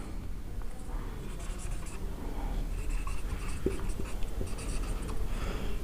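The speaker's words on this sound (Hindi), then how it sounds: "तो मैं लिख देता हूं IR ट्रांसमीटर" Pen writing by hand on paper or a board during an electronics lesson, faint scratchy strokes running steadily under a man's speech.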